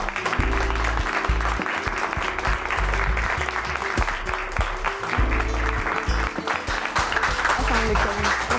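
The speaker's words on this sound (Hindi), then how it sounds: "मैं अपने मौजूद मेहमानों का बहुत सारी तालियों में इस्तकबाल करना चाहूंगी" Studio audience on a Pakistani television talk show clapping to welcome the guests, a continuous dense round of applause over music, with a voice briefly heard beneath it.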